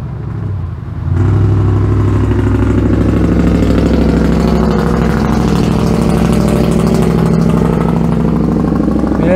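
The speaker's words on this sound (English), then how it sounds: "straight pipe truck coming." A straight-piped truck roars in after about a second of quieter background, its loud, deep, raspy exhaust rumble holding steady and close as it passes.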